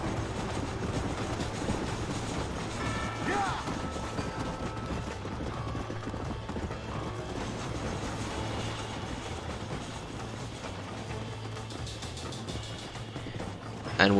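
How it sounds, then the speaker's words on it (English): A passing train in the Western video game Red Dead Redemption, a steady rumbling rail roll with faint clickety-clack that holds at an even level for the whole stretch, with no talking. "so we're just gonna wait for the train to go through."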